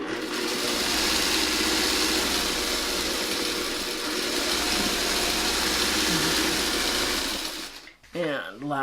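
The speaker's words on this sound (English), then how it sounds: "I'm just going to sew like this" A sewing machine stitches quilt pieces in a steady, fast mechanical whir, running continuously at close range before stopping abruptly, followed by a brief voice.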